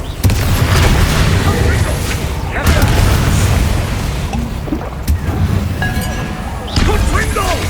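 Bombarda spell explosions in Hogwarts Legacy boom several times with deep blasts and clinking debris amid combat, loud and close, while characters shout over the action.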